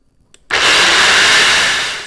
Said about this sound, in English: I'm going to put this lid on, and I'm going to blend this until it's smooth